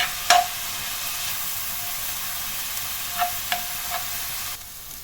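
Vegetables with two chopped carrots being stirred and sautéed in a pan, a steady low sizzle with a few sharp scrapes and clinks of the utensil against the pan.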